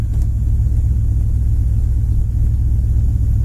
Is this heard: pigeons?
no